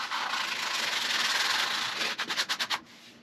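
Sandpaper rubbing back and forth over a painted metal railing, a steady close abrasive hiss that breaks into a few short quick strokes near the end before stopping.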